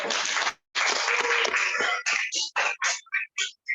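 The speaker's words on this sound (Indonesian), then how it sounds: "Tepuk tangan dong buat Arsya" A classroom of students applauds for a classmate named Arsya during an Indonesian language lesson, a dense burst of clapping that breaks into short, uneven bursts as it dies away.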